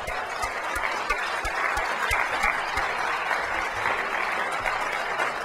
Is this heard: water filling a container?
no